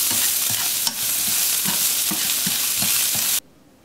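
Shiitake mushrooms with lemongrass, chili and scallions stir-fried in a hot pan: steady loud sizzling with rhythmic scraping strokes of a spatula about every half second, cut off abruptly near the end.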